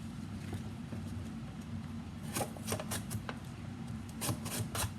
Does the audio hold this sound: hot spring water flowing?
no